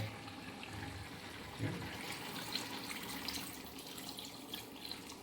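Hot water is poured from a container into a pot of chicken being cooked for traditional Konkani kombdi vade, giving a steady pouring and splashing rush that continues for several seconds without talk.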